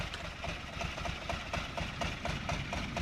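A small old-fashioned light railway locomotive on the Mid Suffolk Light Railway in Train Simulator revs its engine, a steady low chugging throb with regular rhythmic pulses, continuous and fairly close.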